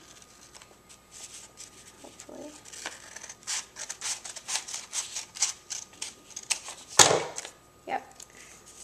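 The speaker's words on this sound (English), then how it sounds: "take my scissors and cut right along the line" Scissors snipping through paper in a steady series of short, crisp cuts, close and fairly loud, with a brief spoken word partway through.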